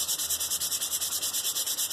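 Steady back-and-forth hand sanding of a wooden spoon with 320 grit sandpaper, close and continuous with an even rhythmic rubbing stroke, no voices.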